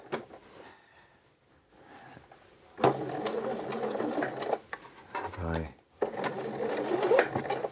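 Sewing machine stitching a dart on an A-line skirt, running in steady bursts with a brief pause and short stop-start for a back stitch, fairly loud and close.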